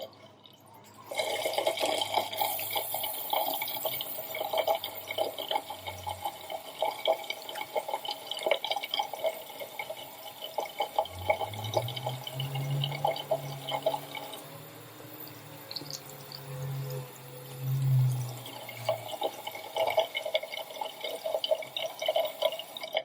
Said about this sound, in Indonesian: Sementara saya akan melakukan cuci tangan prosedural terlebih dahulu.